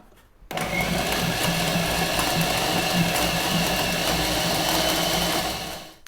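A food processor pulses flour, butter and salt for steak and kidney pie pastry, starting abruptly and holding a loud, steady whirring motor drone for about five seconds before winding down.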